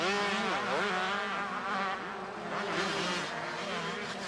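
Motocross motorcycles race past in a continuous high, buzzing engine whine that rises and falls as bikes rev through turns, loud and close, with several machines overlapping and no talking.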